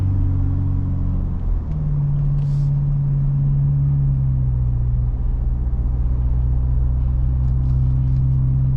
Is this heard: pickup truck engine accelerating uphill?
yes